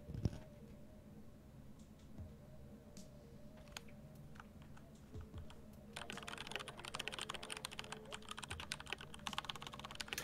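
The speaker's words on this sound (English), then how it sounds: "Yeah, it is a good sounding keyboard." Fingers type on a computer keyboard in a steady run of soft clicks, turning into a faster, denser and louder burst of keystrokes partway through, with no voices.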